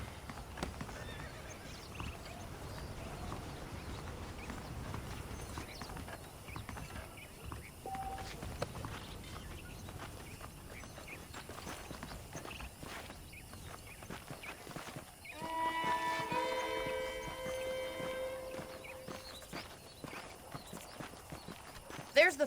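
Horse hooves clip-clop at a steady walk in the Red Dead Redemption video game, faint and low under a man's speech, with a horse whinnying midway.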